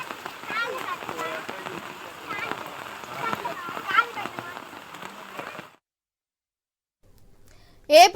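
Heavy monsoon rain falls in Telangana, a dense, steady patter on surfaces that keeps up for several seconds, then drops to silence before a brief sharp sound at the very end.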